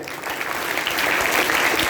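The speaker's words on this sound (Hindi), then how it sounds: "बहुत बहुत शुक्रिया आपकी तालियों के लिए।" Audience applause at a Teachers Day event, dense continuous clapping from a crowd filling the room, steady and fairly loud throughout.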